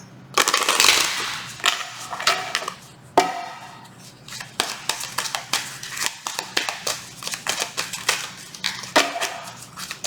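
Tarot cards being shuffled by hand, a run of crisp riffling and tapping bursts with short pauses between them, close and fairly quiet, no speech.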